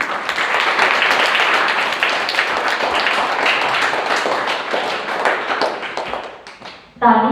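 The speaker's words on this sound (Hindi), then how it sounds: "तो बाबा के लिए भी हम जोरदार ताली बजाएंगे" Children in an audience clapping loudly at a programme, a sustained dense burst of many small hands that tapers off, then a brief voice at the end.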